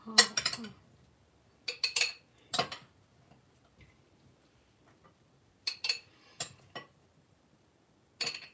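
Metal utensils clink and scrape against a bowl in short clustered bursts with quiet gaps between them as ingredients are mixed for homemade cucumber pickles.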